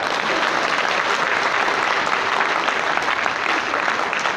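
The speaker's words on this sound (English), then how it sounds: "Now clap will be the number of claps that I deserve." A graduation audience at a convention hall claps and applauds steadily, a dense, loud, even wash of many hands lasting throughout with no pauses.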